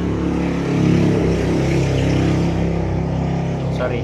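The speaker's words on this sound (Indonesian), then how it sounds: "agak berisik motor lewat" A passing motorcycle engine roars loudly close by, a steady droning rumble filling the whole moment, with a voice partly buried beneath it.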